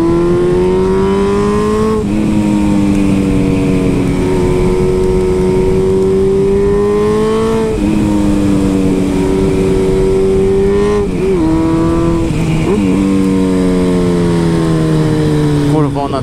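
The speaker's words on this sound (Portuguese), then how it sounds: "a moto berra demais, velho." A loud Suzuki B-King motorcycle engine roars steadily on mountain curves, its pitch rising and falling as it revs through gears, close by and continuous throughout.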